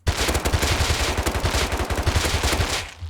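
An MP5 fitted with a muzzle boost fires in the video game Rust, a continuous rapid burst of loud, close automatic gunfire lasting around three seconds without pause.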